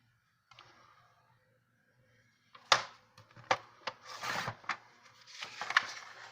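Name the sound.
cutting a paper piece for a scrapbook cover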